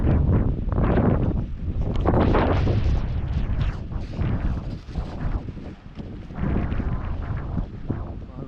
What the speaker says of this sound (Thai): โอ้ยังลมอยู่เลย